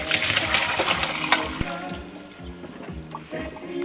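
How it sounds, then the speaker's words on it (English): Boiled potatoes for German potato salad are drained, and water pours and splashes steadily into a sink. It is loudest at the start, then eases into a gurgling trickle, close up. "Okay, so I'm going to drain the potatoes."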